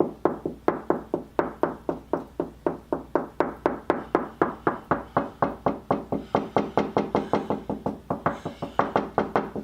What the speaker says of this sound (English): There's also the method where you go along and tunk on the wall.